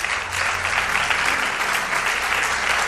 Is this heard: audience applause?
yes